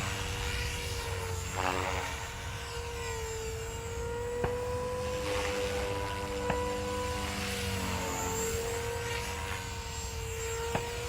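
A Walkera V500D01 flybarless 3D RC helicopter flies outdoors, giving a steady, continuous rotor and motor whine at moderate distance. The pitch rises and falls slightly over about eleven seconds, with no one talking.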